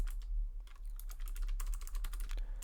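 Rapid, uneven bursts of keystrokes on a computer keyboard while entering CSS code, close and fairly quiet, with brief pauses between clusters of taps.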